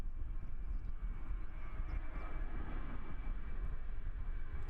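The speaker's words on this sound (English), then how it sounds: "That is an incredibly light plane." A light plane takes off at Christchurch Airport and climbs steeply, its engine a steady, fairly loud drone that holds throughout with no voices.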